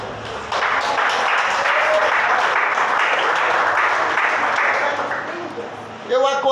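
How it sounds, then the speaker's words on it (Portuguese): Church congregation clapping as a dense, sustained round of applause that swells in, holds steady and then fades, with a voice speaking briefly at the very end. "A igreja senta-se e bate palmas para Jesus."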